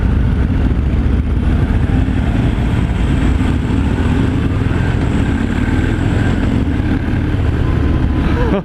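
A 2018 Harley-Davidson Fat Bob 114 thunders steadily during a ride, its loud, low engine rumble mixed with constant wind buffeting on the microphone.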